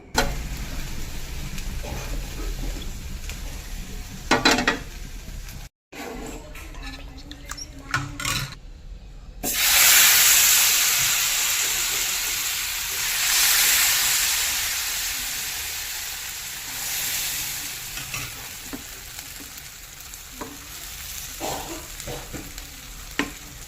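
Dhirde batter poured onto a hot oiled griddle sizzles and fries, a loud hiss swelling after a few quiet stirring and clattering moments, then settling into steady crackling close by.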